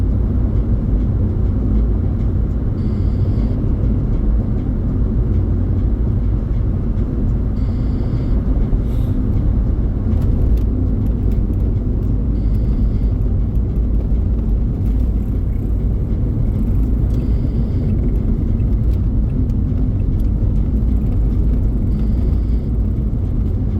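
A car drives along a blacktop highway, its steady broadband tire roar and low engine rumble continuous and loud from start to finish, with a faint repeating tick recurring roughly every five seconds.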